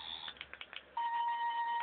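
Short electronic chirps and blips from a toy Doctor Who sonic screwdriver play in quick succession, then a steady high beeping tone holds, thin and fairly faint.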